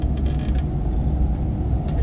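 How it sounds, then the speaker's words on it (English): Low, groaning creaks and mechanical rumbling fill a dark interior in Amnesia: A Machine for Pigs, heavy and continuous with faint brief rattles on top and no talking. "I can hear creaking, I don't like this."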